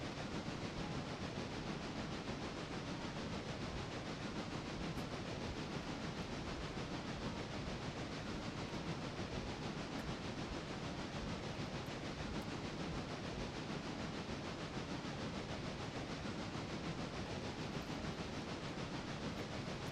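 Steam locomotive rolling along rails on an excursion train in the Railroader game, a faint, steady hiss and rumble continuing unchanged throughout with no voices.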